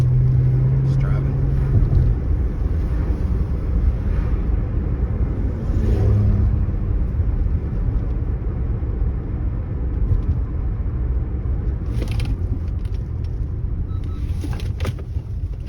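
A car drives along with a continuous low engine and road rumble heard from inside the cabin, steady throughout with a few faint clicks near the end.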